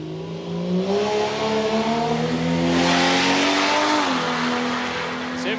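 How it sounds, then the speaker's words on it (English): A Ford TC Cortina drag racing at Palmyra Raceway in Australia roars past, its engine note rising and falling as it accelerates, loud and sustained with a gradual shift in pitch. "Listen, a little TC Cortina."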